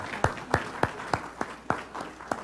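A small live-stream audience on a campus gives a round of applause, heard as about eight evenly spaced sharp claps, fairly quiet, with no other voices.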